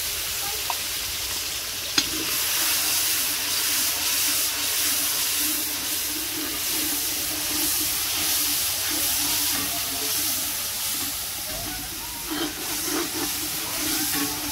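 Hot oil heating in a pan for a mullet fish curry gives a steady, close sizzle and hiss that runs unbroken throughout, with a couple of small clicks and no talking.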